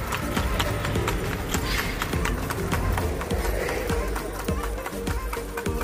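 A horse pulls a kalesa carriage through the streets of Vigan, its hooves beating a quick, loud, close clip-clop under a busy background with faint voices.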